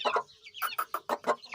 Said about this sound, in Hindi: जो पहले ब्रीड थी उनसे थोड़े बड़े हैं ये चूज़े।